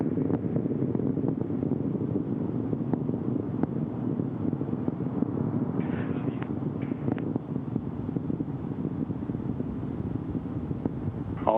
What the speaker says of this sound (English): The engine's now beginning to throttle back up.